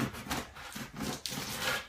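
A knife saws back and forth through a hard, stale loaf of bread, giving close, rhythmic rasping strokes of crusty scraping, about six or seven in quick succession, with no voices.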